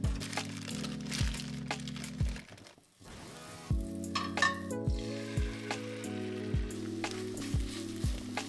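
Food sizzles and fries in a pan with steady crackle and occasional scraping or stirring, while soft music plays throughout; a brief quiet dip comes partway before the frying resumes.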